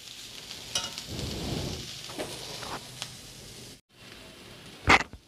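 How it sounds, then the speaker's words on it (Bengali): Greens frying in mustard oil in a pan, a soft steady sizzle with occasional stirring scrapes and a brief sharp clatter near the end, no talking. "দিয়ে একটু ভাজা ভাজা করে নিয়ে এটাকে নামিয়ে দেবো।"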